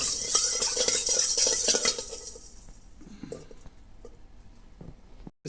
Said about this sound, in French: On mélange un peu et on attend que le sel soit dissous